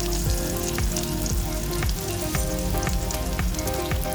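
Chopped garlic and onion fry in a small amount of oil in a kadai, a loud, continuous close sizzle with faint crackles and occasional stirring scrapes running steadily throughout.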